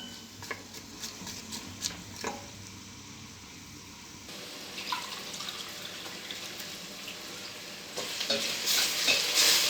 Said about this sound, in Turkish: Şimdi önce soğanım kavrulacak biraz.